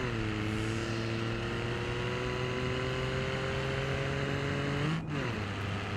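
Three-cylinder engine of a Gavril Vertex in BeamNG Drive, droning steadily at near-constant revs with a slowly rising harmonic tone, then a brief dip around a gear change before settling again; loud and close, no talking.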